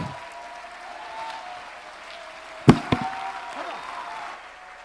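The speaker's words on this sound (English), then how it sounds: "Somebody stand up and clap." Scattered congregation clapping in church forms a quiet background, broken by a couple of sharp, loud knocks or thumps near the middle.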